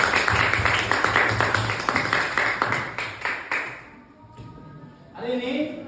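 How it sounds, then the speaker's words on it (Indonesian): A classroom of students claps together in a quick burst of rhythmic clapping that fades after a few seconds, followed by a teacher's voice speaking. "Tepuk tangan semua."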